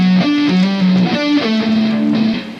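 Picked electric guitar notes from a solo, played as a quick run of single lines with a distorted tone, steady and close, no voice.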